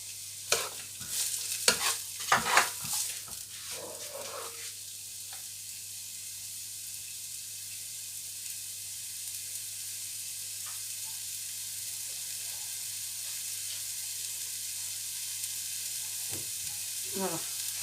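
Onions and garlic cloves sizzle steadily in a pan for chicken jambalaya, opening with a few loud clatters of stirring before settling into a long, even frying hiss with an occasional faint tap.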